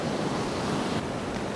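Rough sea surging against a Northumberland shore while a strong southwesterly wind roars across the microphone, a loud, steady broadband wash with no voices.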